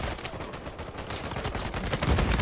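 Gunfire from sniper rifles in an Uncharted 4 multiplayer match, dense and continuous, with overlapping shots and loud, busy game action filling the whole stretch.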